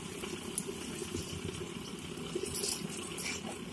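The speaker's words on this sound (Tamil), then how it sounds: "இப்போ நம்ம வந்து தண்ணி ஊற்றிக்கலாம்." Water poured into a cooking pot for rice in a home kitchen, a continuous splashing, gurgling rush with brief bright spatters, steady and close throughout.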